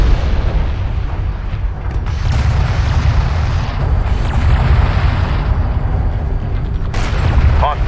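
Enemy airstrike explosions in the video game Homeworld: Deserts of Kharak, a loud, continuous barrage of deep booms and blasts with heavy low rumble and sharper bursts on top.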